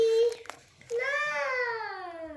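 Small children babble and squeal in the background at home, with a rising drawn-out vocal cry after a brief pause, fairly faint and close.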